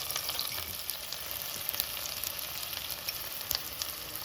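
Onions fry in a hot pan with a steady, dense sizzle and crackle, with occasional sharper pops and stirring, no voices present.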